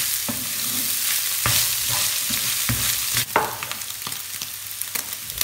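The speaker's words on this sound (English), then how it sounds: "I'm just going to let this one to saute for a few minutes" Red onions sauteing in a pan for lasagne with béchamel sauce: a steady broadband sizzle with repeated stirring scrapes and utensil clicks, close and fairly loud throughout, no voices.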